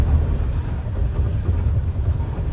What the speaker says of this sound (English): So that noise is the ABS.